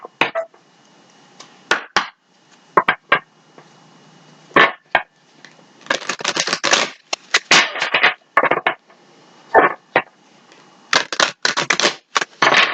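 Repeated quick bursts of tarot cards being shuffled and riffled, close and crisp, in irregular clusters with brief pauses between.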